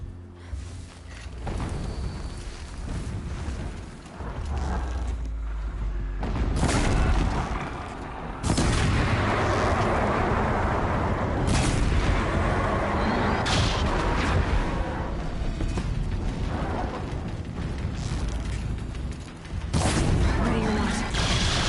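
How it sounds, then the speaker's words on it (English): Distant explosions and booming gunfire in Horizon Zero Dawn on PS5, a dense, continuous rumble of blasts rolling under game voices and ambient noise. "explosions in the distance"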